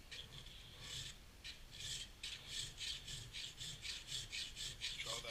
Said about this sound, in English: I would start with a round file